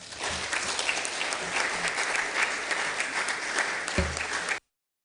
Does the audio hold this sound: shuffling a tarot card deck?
no